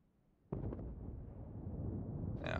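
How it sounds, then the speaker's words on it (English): A torpedo strikes the Cleveland, an American cruiser, in the naval battle game World of Warships, launched by the Kagero destroyer: a sudden loud explosive impact followed by a sustained heavy rumble, with a brighter crackling burst near the end. "the Cleveland gets torped by the Kagero"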